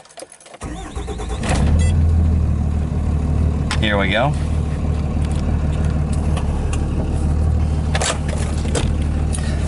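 A 24-valve Cummins diesel engine cranks and catches, then settles into a loud, steady rumbling idle, heard up close with a short spoken remark over the start.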